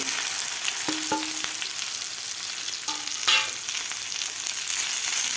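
Stuffed okra sizzles in a pan of hot oil with cumin and mustard seeds, a steady broadband frying hiss with a few sharp clinks of a utensil against the pan, close and continuous with no talk.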